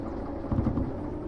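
Diesel locomotive engine in the Derail Valley train simulator game, a low droning rumble with a brief swell of revving in the middle, heard alone.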